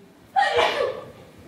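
A single sneeze bursts out abruptly and fairly close in a lecture hall, a sharp explosive blast trailing off over about a second.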